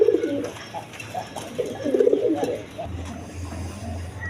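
Pigeons at a pigeon farm, including a Lahori pair with a red male and black female sitting on eggs, give low repeated coos in short bursts, with a steady low hum running underneath.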